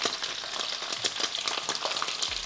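Curry leaves crackle and sizzle in hot oil alongside chicken sausages in a stir fry, a dense spitting hiss with sharp pops, close and steady with no talking.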